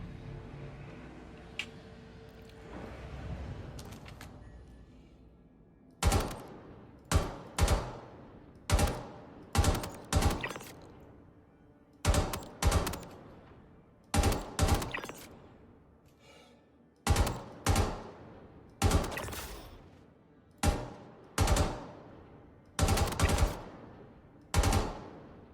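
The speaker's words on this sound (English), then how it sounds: "where are those gunshots coming from?" Repeated bursts of automatic gunfire in the video game Star Citizen, around a dozen sharp volleys spaced a second or two apart, loud and alone with no talking.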